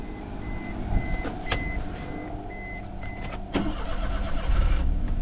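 A Japanese-market van's engine cranks and catches, then idles with a steady low rumble, while a repeating electronic beep chimes in the background.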